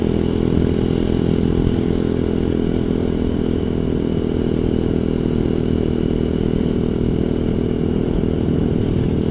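A ZS190 Grom-clone motorcycle cruises at a steady pace, its engine droning loud and close with a constant buzzing note and no pauses or speech throughout.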